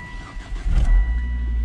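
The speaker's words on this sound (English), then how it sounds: "let me start the car up so you guys can see what the mileage is" A Volvo S60R's engine cranks and catches, a short rising rumble settling into a steady low idle, close and fairly loud.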